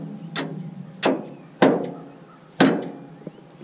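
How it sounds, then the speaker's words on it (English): Four sharp hammer strikes on bolts, spaced unevenly with ringing decay after each, then a lighter tap at the end. "Drop them in, then give them a hit with a hammer"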